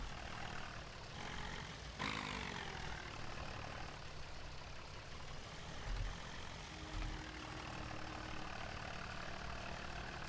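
A small tractor's engine idles steadily in Farming Simulator 17, a low, continuous rumble holding at an even level throughout, with a couple of faint knocks along the way.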